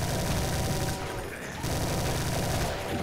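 Rapid gunfire from the shooter game Brutal Doom as enemies are gunned down, a dense, continuous loud barrage of overlapping shots with a short dip in the middle before it resumes.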